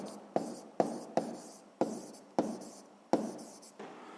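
Hand writing during a physics exercise, a series of about eight sharp pen strokes and taps on paper with brief scratchy tails, close and fairly quiet.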